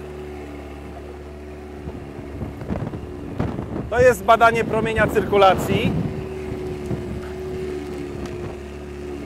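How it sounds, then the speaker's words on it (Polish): Motorboat swinging through a sharp full-rudder turn on the Nysa Kłodzka river during a lifeguard training run, with a steady engine hum and wind rumble as someone speaks over it. "Wykładamy ster, tak, maksymalnie i obserwujemy jak szybko motorówka zawraca."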